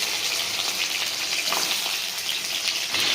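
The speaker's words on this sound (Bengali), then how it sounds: "এবার গাটি কচুগুলো ভেজে নেবো ভালো করে, লাল করে ভেজে নেবো সব।" Pieces of taro sizzle steadily in hot oil in a pan, a dense continuous crackle of frying with small spatters, close and fairly loud with no voices.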